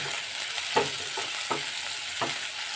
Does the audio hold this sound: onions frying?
yes